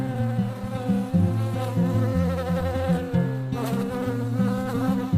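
A person's voice imitates a buzzing bee, a steady droning hum held close and loud for several seconds with shifting pitch, sounding alone without other speech.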